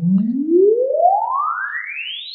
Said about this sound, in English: an exponential sine sweep that goes from 20 hertz to above 20 kilohertz.